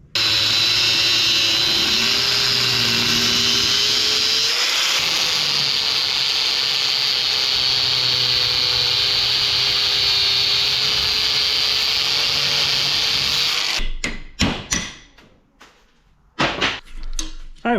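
Power tool whirring steadily at close range while studs are removed from a new turbocharger for a Mitsubishi Pajero Mk2 2.8, running continuously for most of the time, then stopping into brief clanks and handling noises near the end.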